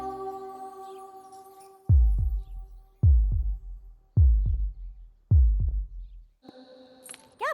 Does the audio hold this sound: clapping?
no